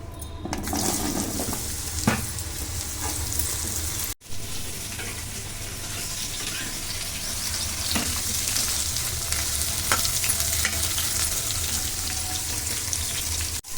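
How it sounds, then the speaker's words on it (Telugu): Thick-cut ridge gourd pieces fry in hot oil for a chutney, a steady close sizzle with occasional stirring knocks and a short break partway through. "నూనె కాస్త వేడయ్యాక అందులో కట్ చేసి పెట్టుకున్న బీరకాయలు వేసుకోవాలి"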